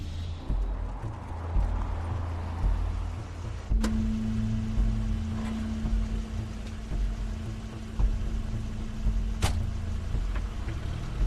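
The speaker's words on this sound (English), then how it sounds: "That's Crane's car." Crane's car in the adventure game The Wolf Among Us: a low engine rumble with a steady hum that starts partway through, punctuated by a couple of sharp clicks or thumps.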